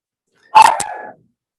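One sharp, loud dog bark close by, trailing into a short growl.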